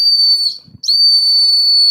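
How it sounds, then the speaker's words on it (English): A cyber whistle, the one blown at the start of a Tesla earnings podcast, gives a loud, piercing steady tone in two blasts separated by a brief gap, with nothing else heard. "We're going to start the show with a blast from the cyber whistle."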